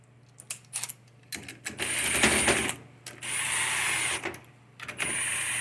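Small bolts being run down with a ratchet on a 4L60E automatic transmission during reassembly, several bursts of rapid metallic clicking and whirring separated by short pauses, close up with no voices.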